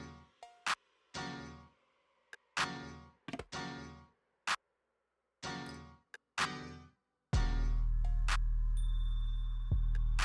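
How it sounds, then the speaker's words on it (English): A blow dryer switches on near the end to dry EBIN lace glue on an HD lace wig, a loud, close, steady whoosh lasting a few seconds after a series of short, sharp handling bursts. "then we're going to use the blow dryer just for a couple of seconds to dry that down"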